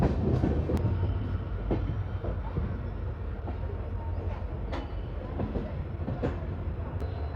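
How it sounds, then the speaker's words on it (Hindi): A diesel intercity train hauled by a WDP 4D locomotive rolls into Bathinda Junction, a steady low rumble with rail clatter and a few sharp clanks and squeals throughout, close and continuous. "बस इंटर हो रही है अपनी ट्रेन बठिंडा जंक्शन पर"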